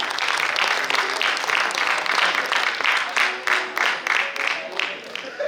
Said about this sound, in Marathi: आता छान टाळ्या येत आहेत खरं.